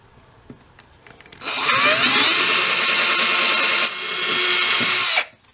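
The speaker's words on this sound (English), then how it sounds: "I'm going to put this in a drill and then drill down through the box there" Power drill boring down through a wooden cigar box for a cigar box guitar build: after a few small clicks, a loud, close, steady whine with grinding bite for about four seconds, briefly dipping, then stopping abruptly.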